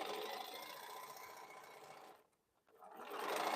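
A sewing machine stitches darts in a fabric bowl cozy, running steadily and loud, pausing briefly near the end, then whirring back up.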